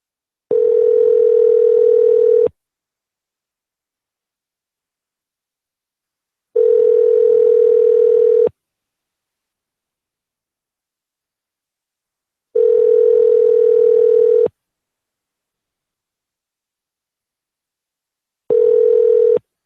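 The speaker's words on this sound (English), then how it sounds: "let's dial another number on Pran Funkels" Telephone ringback tones after dialing a number: four long steady tone bursts, each about two seconds, separated by roughly four seconds of silence, loud and alone with no voices.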